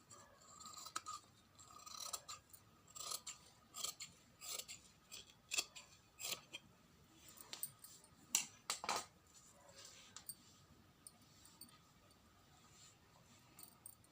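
Scissors snipping through cloth for sewing an armhole, a quiet close series of crisp repeated cuts in irregular bursts, with no talk over them.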